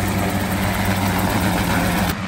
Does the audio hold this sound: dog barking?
no